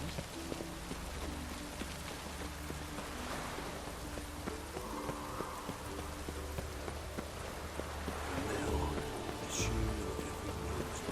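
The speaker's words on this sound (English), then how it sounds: "Rain doesn't bother you, it seems." Rain patters in a soft, continuous wash, faint and steady, with scattered low clopping in the background and no speech.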